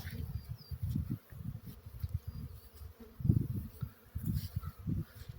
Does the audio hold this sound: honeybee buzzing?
yes